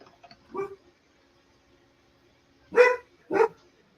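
A dog barks three times in a quiet room, one short bark followed after a pause by two louder, closer barks in quick succession.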